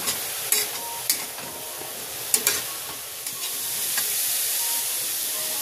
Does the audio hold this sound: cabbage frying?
yes